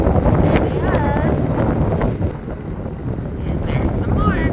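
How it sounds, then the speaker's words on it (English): Strong mountain wind gusts of around 75 mph buffet the microphone in loud, rumbling bursts that rise and dip, with people talking over the roar. "this side of the road is super windy. Getting 75-mile-per-hour gusts."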